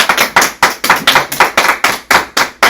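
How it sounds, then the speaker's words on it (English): Loud, heavy hand claps in a steady rhythm, about ten sharp slaps close up with short gaps between them and no talking. "I want heavy claps for this."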